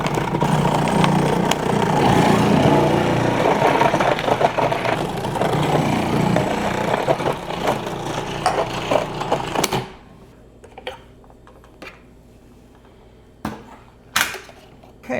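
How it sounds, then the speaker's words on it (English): A food processor whirs loudly and steadily while shredding zucchini, then stops abruptly, leaving a few scattered clunks and knocks from the bowl. "Now you can do this with a food processor. I'm going to do that today."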